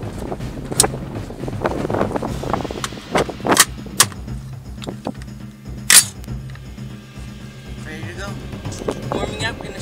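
An AR-15 rifle fires at a target 25 yards away, several sharp cracks spaced irregularly over a few seconds, with wind rumbling against the microphone in between.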